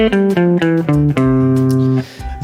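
An ascending major scale picked note by note on guitar, about eight evenly spaced plucked notes stepping upward, the final note ringing longer before fading, close and clear with no talking.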